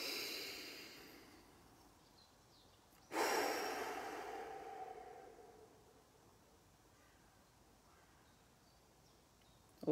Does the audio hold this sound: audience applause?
no